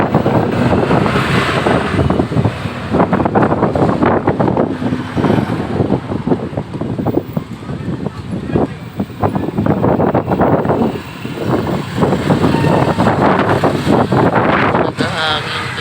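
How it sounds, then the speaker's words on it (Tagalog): Strong wind roars and buffets the microphone in heavy gusts, with a person speaking over the noise. "Malakas ang hangin."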